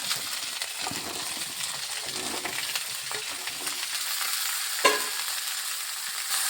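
Potatoes fry in a pan and are stirred, producing a constant close sizzle broken by occasional spatula scrapes and one sharp clink partway through.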